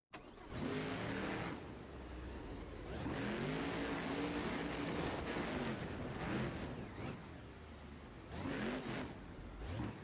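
The Iron Outlaw monster truck revs its big engine at a show arena in Gilbert, Pennsylvania. It gives loud, sustained roars with rising and falling pitch sweeps and brief dips between pushes of the throttle.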